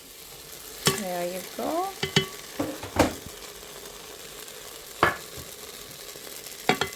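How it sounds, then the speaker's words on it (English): Turmeric powder, whole peppercorns and coriander powder are stirred into a hot pot for a lamb feet curry, giving scraping stirs and clanks over a steady low sizzle, with a brief spoken remark. "just mix it all up"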